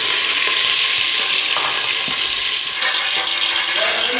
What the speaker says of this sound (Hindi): मैंने आधा कप ऑयल लिया है, अब मैं पॉट में डालूँगा और इसको गर्म करते हैं